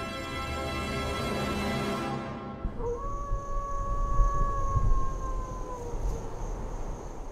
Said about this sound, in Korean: 하울링은 늑대들의 소통 방법.